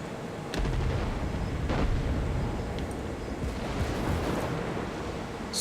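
Battleship main guns boom in a World of Warships naval battle, opening with a sharp blast followed by a long rolling rumble and further deep reports, loud and close, with no voices.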